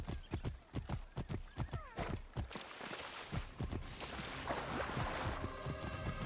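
Horse hooves clip-clop steadily during a ride in Assassin's Creed Origins, a rhythmic series of hoofbeats up close, joined by a whinny and some background game ambience.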